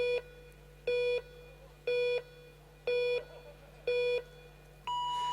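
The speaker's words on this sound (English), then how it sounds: "At 10, there's a beep, and then there's 5 more beeps down 5 through 0." Electronic countdown beeps at a UCI Track Cycling World Cup in Manchester's velodrome: five evenly spaced short tones about a second apart, then a sustained higher start tone, loud and clear against a low hall hum.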